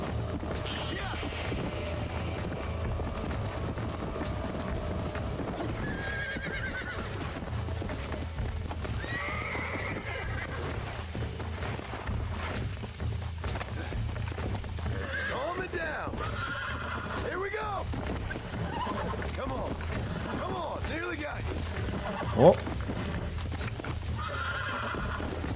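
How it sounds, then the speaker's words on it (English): A horse gallops with rapid clip-clop hoofbeats and repeated neighs in the Red Dead Redemption video game, steady and fairly close, with someone talking over it. "Okay, horse be fast."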